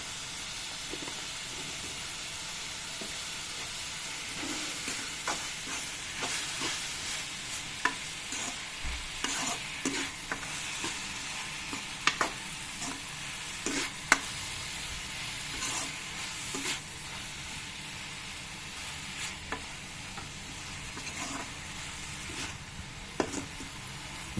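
Steady sizzling of tomatoes sautéing in a pan for chicken curry, broken by repeated scraping and clinking as a utensil stirs them, close and continuous.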